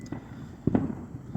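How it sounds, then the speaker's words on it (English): Fireworks bursting outside a lavvu tent on bonfire night: a sharp, loud pop-and-crackle cluster in the middle, with fainter distant bangs before and after against a steady low background. "As you can probably still hear, we've got fireworks still going off."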